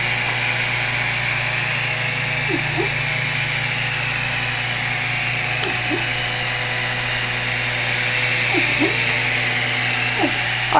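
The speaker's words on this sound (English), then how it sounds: "I'm gonna hit the frame button so you can see what the machine does." A Longer Ray5 10W laser engraver runs its framing pass, a steady loud motor hum and whine with faint periodic sweeping tones as the head traces the outline, no voices over it.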